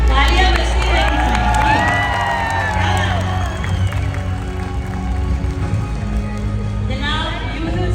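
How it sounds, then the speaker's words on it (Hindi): Crowd at a mushaira poetry gathering of a Pakistani community claps and cheers loudly, with voices and shouts mixed into the roar, fading somewhat before a fresh swell near the end. "तालियां बजती रहेंगी।"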